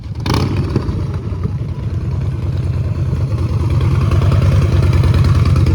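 A superbike engine, a BMW S1000RR or a Harley-Davidson, runs loud and close with a heavy, steady rumble that swells slightly toward the end, with no talking.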